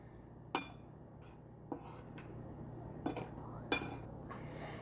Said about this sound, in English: Now I'm just gonna take a spoon, give this a good mix.